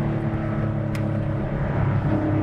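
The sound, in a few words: Porsche 964 restomod with valved exhaust in loud mode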